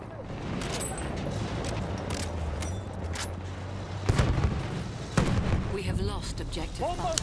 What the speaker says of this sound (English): And that is the anti-tank grenade